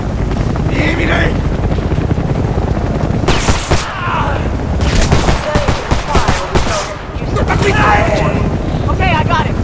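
Bursts of automatic gunfire and rapid shots crackle in a Homefront combat scene, loud and close, with shouting voices and a helicopter-like drone underneath.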